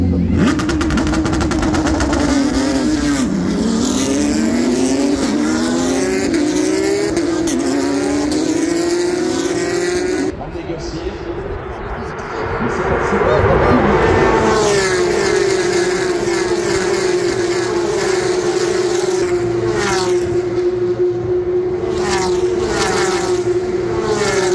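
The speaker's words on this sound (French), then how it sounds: "Donc là on est sur de la Porsche Carrera Cup Deutschland qu'on a vu rouler tout à l'heure" Porsche Carrera Cup Deutschland race cars lapping a circuit, engines loud and continuous with rising and falling pitch as cars accelerate, shift and pass close by, overlapping engine notes filling the whole stretch.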